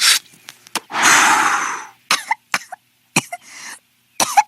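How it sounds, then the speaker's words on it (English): A string of coughs and short throat-clearing bursts, one longer rasping cough near the start, close and fairly loud, separated by brief pauses. "She's coughing."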